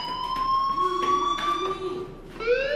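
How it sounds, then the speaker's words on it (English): Electronic fire alarm in the video game Life is Strange: a steady high-pitched tone that sounds continuously, with short pulsing beeps layered over it and a rising sweep near the end. It is moderately loud and no one speaks. "do you hear that fire alarm? That means you should be outside."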